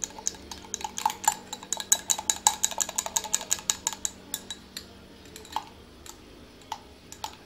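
A spoon stirring an egg, flour and cinnamon mixture in a bowl, giving rapid, close, clicking taps against the sides that run densely for about four seconds, then thin out to sparse scattered knocks.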